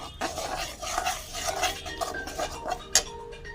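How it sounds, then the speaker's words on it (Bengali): Turmeric, coriander and cumin powder being stirred in a pan, with steady scraping and clinking of a metal spoon against the pan across several seconds and one sharper clink near the end, close and moderately loud with no talk. "এবার দিয়ে দিলাম ধনে গুঁড়ো, জিরে গুঁড়ো, ভালো করে কষিয়ে নেব।"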